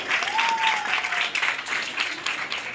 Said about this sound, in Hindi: एक बार जोरदार ताली हो जाए हमारे ऑनरेबल चेयरमैन के लिए